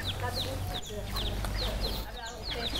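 Ducks on a duck farm calling over and over, a dense crowd of quacks and clucking cries that overlap continuously at close range.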